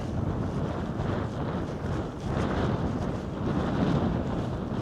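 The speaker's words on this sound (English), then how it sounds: "the wind's blowing this direction as well, so it's not mega windy" Strong wind on Skiddaw mountain buffets the microphone in a steady roaring rush, with low rumbling gusts that swell and ease throughout.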